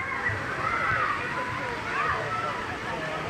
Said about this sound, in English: The boys are waiting for that big bucket to fill up with water.